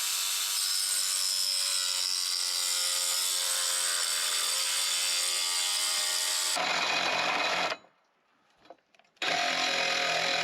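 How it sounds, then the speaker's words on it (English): A DeWalt jigsaw fitted with a metal blade cuts steadily and loudly for several seconds, its buzz shifting as the load changes, then drops out briefly before resuming, with no talk. "I'm using a DeWalt jigsaw with a metal blade to cut this."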